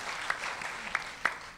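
Church congregation applauding during a sermon, a steady patter of clapping with a few sharper claps standing out, moderately distant and fairly faint.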